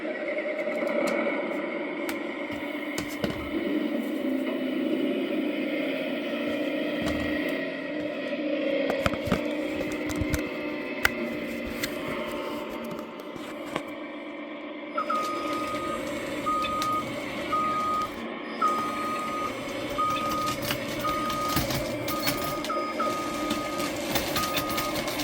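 Kitten E394 model excavator, a scale CAT 349E with an upgraded undercarriage, its motor running as a steady mechanical whine and hum throughout, joined partway by a repeating electronic beep, close and continuous with no talk.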